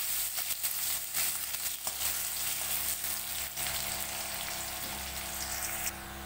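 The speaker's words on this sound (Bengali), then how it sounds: "আর মাঝারি সাইজের একটা পেঁয়াজ কুচি দিয়ে দেব। পেঁয়াজগুলো ভেজে নেব।" Chopped onions fry in hot oil with cumin and bay leaves, giving a steady, moderately loud sizzle with occasional light stirring clicks and no voices.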